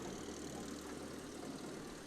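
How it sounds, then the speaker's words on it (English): A 1927 McCormick Deering 1020 tractor rolls down a street in a small-town parade, its old engine giving a steady, continuous low rumble with a faint knocking texture throughout, fairly loud and with no voices over it. "that's like a 90-year-old tractor rolling down the street there, John."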